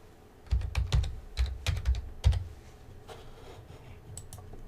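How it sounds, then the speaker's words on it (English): A company name is typed on a computer keyboard, with close, quick bursts of sharp key clicks in an uneven rhythm followed by a few lighter taps. "we'll type in the name of a company"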